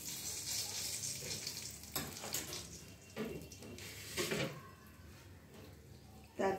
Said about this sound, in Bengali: এবার আমি এর মধ্যে দিয়ে দিচ্ছি সামান্য জিরে, সাদা জিরে অবশ্যই। জিরেটা একটু নেড়ে নেব।